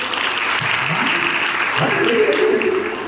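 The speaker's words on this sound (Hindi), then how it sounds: "तालियां बजाइए।" Audience applause in a college hall during a talk, a dense continuous clapping with a voice faintly heard over it.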